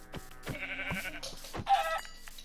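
Sheep in the video game Minecraft bleat several times in a row, short wavering calls close and clear with no talking.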